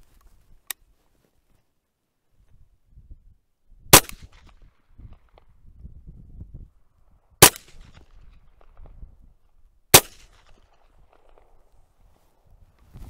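A Ruger PC Carbine 9mm semi-auto rifle fires four sharp, separate shots, the first faint and the rest loud, spaced a few seconds apart, with quiet handling and shuffling noises in between.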